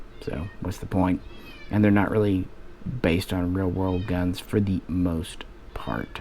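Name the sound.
cat meowing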